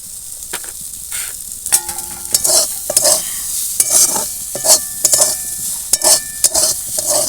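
Spiced cauliflower fries and sizzles in a pan over medium heat while a utensil stirs it, with steady close sizzling and repeated scraping strokes and no talk.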